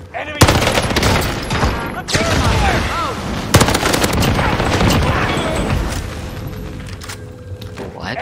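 Rapid bursts of automatic gunfire crack out in Warzone on Rebirth Island, with sharp reports, heavier thuds and sustained chatter across several seconds, intense and close, with voices shouting over it.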